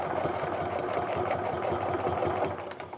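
A home sewing machine runs steadily, stitching a quilt guided along a quilting ruler, its fast even needle rhythm close and continuous before trailing off at the end.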